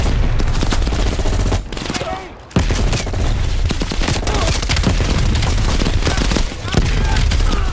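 Heavy, dense automatic gunfire in Call of Duty Black Ops Cold War, loud and sustained with overlapping bursts and a short lull in between, while a voice talks over it.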